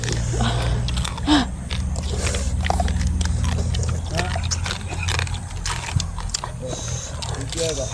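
Crunchy biting and chewing on spicy crab, with repeated cracks and wet chewing sounds close up while people talk throughout.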